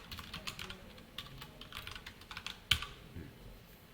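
Code is being typed on a computer keyboard in a quiet room. Soft, fast key clicks come in an irregular stream, with one sharper keystroke near the end, close and faint, with no talking.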